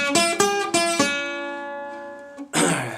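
Open bass strings on a guitar are plucked to start a Delta blues measure. Three quick plucks ring out and decay into a long sustain, followed by a brighter strum near the end, close and alone.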